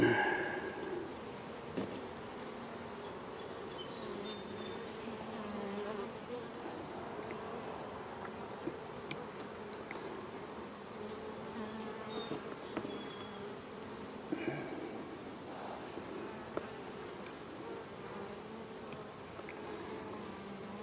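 Honey bees hum in a continuous, fairly quiet buzz around hive frames being handled in a garage during queen grafting, with occasional soft clicks and knocks.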